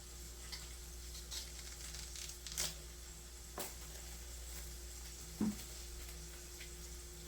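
Green onion sizzling in a hot pan, a steady frying hiss at low level with a few brief louder crackles and pops spread through it.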